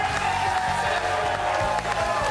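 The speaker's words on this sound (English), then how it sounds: "Get the applause going" An audience applauds and cheers after a game, a steady mix of crowd clapping and whoops at moderate level, with a voice talking over it.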